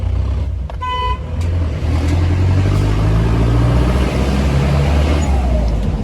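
A Jeep fitted with an SC Project exhaust runs loud and steady throughout, a low engine drone with a brief horn-like toot near the start.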